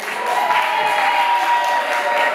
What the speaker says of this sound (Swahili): Basi piga makofi.